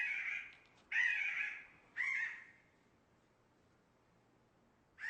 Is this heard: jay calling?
yes